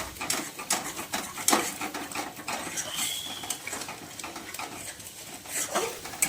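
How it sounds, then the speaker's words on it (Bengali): Paneer gravy with a little sugar being stir-fried in a pan, a spatula scraping and clattering against the metal in uneven bursts, close and moderately loud with no talking. "দিয়ে এটা ভালো করে কষিয়ে নিই।"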